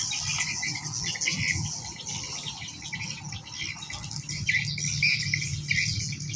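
Swiftlets at a swiftlet house in Bang Len, Nakhon Pathom, Thailand, make dense, continuous high chirps and twittering that rise and fall over a low background hum, with no talking.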